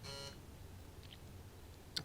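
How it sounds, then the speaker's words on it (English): A short, quiet buzzer sounds in the cab of a Class 153 diesel train in Train Simulator 2016 on the Felixstowe route, a single harmonic buzz at the start followed by near silence and a faint click. "there's the gas buzzer, so let's give him the buzz back"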